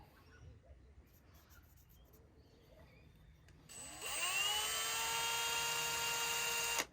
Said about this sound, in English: So these holes will need to be 16 mil, so you'd use a step drill.